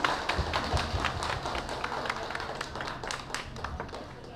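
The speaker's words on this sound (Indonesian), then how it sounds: "Tepuk tangan." Audience clapping at a PGRI building inauguration ceremony in Gegesik, Cirebon, a steady patter of many hands running throughout, fairly close, with faint voices underneath.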